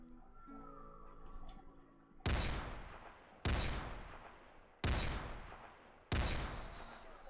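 Four loud sniper rifle shots in a video game, evenly spaced about a second apart, each a sharp crack with a long fading tail, preceded by quiet background tones.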